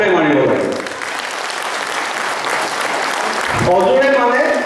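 An audience at a farewell ceremony for the general manager of the Numaligarh oil refinery claps loudly and steadily in a dense wash of applause, with voices audible at the start and end.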